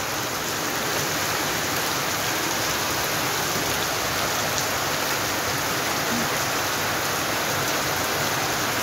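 Steady heavy rain hisses without a break in a Jamaican setting, a dense, even wash of drops hitting surfaces nearby, with no speech over it.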